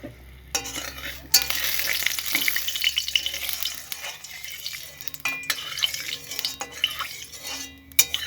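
A dried red chili sizzles in a wok on the stove, with intermittent crackling and spatula scrapes against the metal, moderately close and fairly quiet, with no talking.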